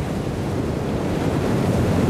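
Rough storm-driven ocean waves crash and roar continuously at close range, mixed with heavy wind buffeting, with no voices.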